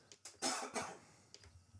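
A person coughs a few times, two or three sharp bursts close to the microphone followed by a fainter one, with no talking.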